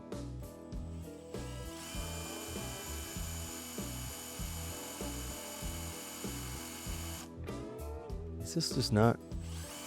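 A power drill drives a self-tapping screw into a DMAX golf cart body while wheel lights are installed, giving a steady whirring grind that stops and restarts, with a brief spoken remark over it.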